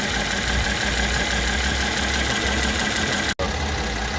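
A 2014 Mercedes-Benz ML350 idles roughly with ignition coil number 5 unplugged, a close, loud hum with an uneven low throb and a brief sharp dropout near the end, with no speech.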